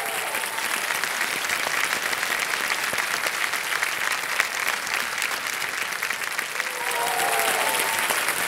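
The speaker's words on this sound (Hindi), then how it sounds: "और तालियां जो हैं वो बजती रहें," A television quiz-show studio audience on Kaun Banega Crorepati breaks into sustained, dense applause, a continuous roar of clapping that swells slightly near the end, with faint voices beneath.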